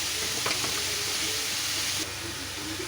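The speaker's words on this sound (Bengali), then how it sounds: "এবার আমি বাঁধাকপিগুলো দিচ্ছি।" Shredded cabbage sizzles and fries in a hot pan for homemade chow mein, a steady loud crackling hiss with stirring scrapes, close by and without talk.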